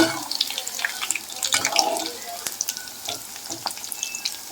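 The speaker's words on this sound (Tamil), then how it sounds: "இப்போ பாருங்கள் இந்த மாதிரி நல்லா பொறிஞ்சு வரணும்" Grated beetroot fries in a pan at home, with a soft, crackling sizzle and scattered pops and stirring scrapes. It sounds close but fairly quiet and continues unbroken for several seconds.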